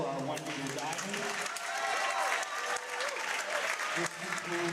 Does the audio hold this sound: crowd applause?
yes